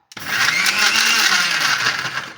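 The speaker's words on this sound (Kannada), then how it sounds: "ಈಗ ಮಿಕ್ಸಿ ಮಾಡ್ತೀನಿ ಇದು" A mixer grinder blending mango, cream and sugar whirs up abruptly and runs at a loud, steady whine with a slightly rising drone for about two seconds, with no talking over it.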